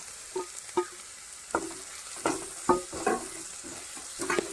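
Chopped garlic, ginger and browned onion stirred in a hot pan, a spatula scraping in irregular knocks over a steady low sizzle, close and moderately loud with no talking.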